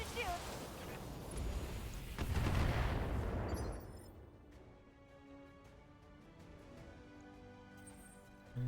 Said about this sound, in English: I can get a straight shot with my shiny new PPC